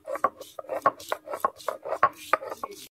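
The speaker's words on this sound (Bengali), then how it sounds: "আমি আদা রসুন শুকনো লঙ্কাটা বেটে নিচ্ছি।" Ginger, garlic and dried red chillies being ground into paste on a grinding stone, heard as a close rhythmic series of scraping, knocking strokes, about a dozen in quick succession before stopping.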